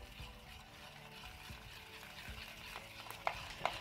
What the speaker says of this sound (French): je vais mélanger ça et on va voir ce que ça va donner.